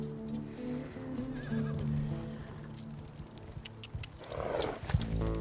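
Horses whinny and snort close by while hooves clop and pound, building toward a galloping rush with outdoor rumble, in the video game The Last of Us Part II Remastered.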